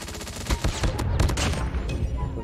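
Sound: gunfire from weapons in a video game

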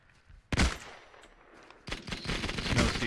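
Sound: MG42 machine gun fire in the video game Hell Let Loose

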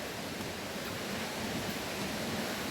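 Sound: Sapan waterfall in the distance

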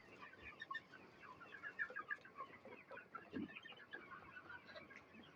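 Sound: desi hens clucking on a poultry farm

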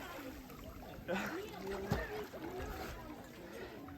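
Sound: splash of a person jumping into water

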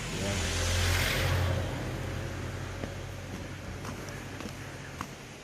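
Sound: car passing by

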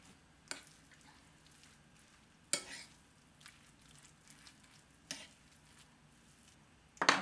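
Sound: hand mixing cauliflower rice, goat cheese and egg

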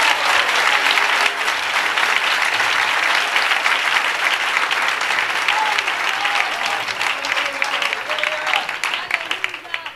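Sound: congregation applauding in church

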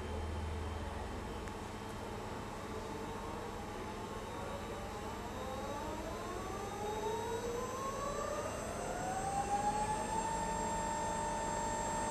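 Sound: servo motor running under load on a test bench

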